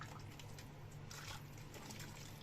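Soup being poured into stuffed bell peppers for mahshi, a soft continuous trickle and dribble of liquid, faint and close, with a steady low hum underneath and no talking.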